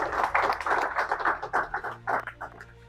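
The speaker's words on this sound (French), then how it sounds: "Je crois que ça mérite l'applaudissement." A crowd of office staff at a provincial administration gathering in Kasaï-Oriental breaks into lively, irregular hand clapping, close and fairly loud, with no talking over it.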